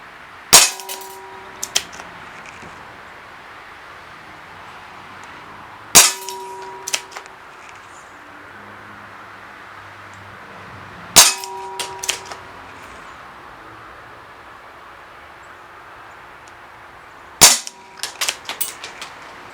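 An Umarex Smith & Wesson M&P 45 CO2 airgun fires BBs in four separate sharp pops spaced several seconds apart, each followed by small metallic clinks and rattles, with quiet hiss between shots.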